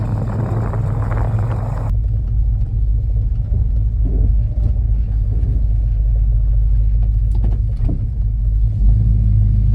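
A 1967 Dodge Coronet, back on the road after 30 years, rumbles loud and close with a deep steady engine drone and some revving, and no talking.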